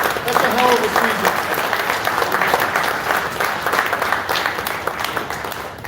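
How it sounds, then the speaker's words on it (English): An audience at a live fishing show's year-end special bursts into steady applause, dense clapping from many hands that stays loud for several seconds with a voice over it at the start. "let's give these guys a big round of applause"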